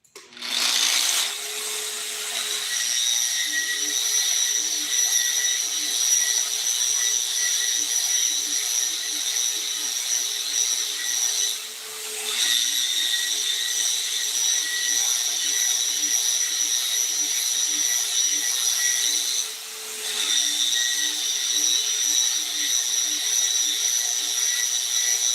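A bench grinder polishes a knife handle with a finer grit wheel, giving a loud, steady high-pitched whine. The whine briefly dips twice as the piece is lifted away, and there is no talking.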